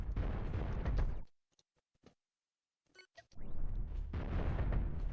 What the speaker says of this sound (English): When these large cannons explode, by the way,